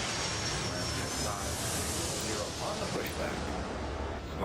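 An aircraft takes off in Airport Madness World Edition, producing a continuous loud, broad jet engine roar that holds steady throughout.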